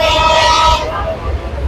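Train in North Bengal heard from inside the carriage, a loud close rumble with a high horn-like tone for the first part before it fades, and a voice speaking over the noise.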